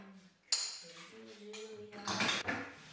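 Dishes and cutlery clink and clatter at close range as a slightly messy home kitchen is tidied, with a sharp clatter near the start and a denser rattle of crockery later, all fairly quiet.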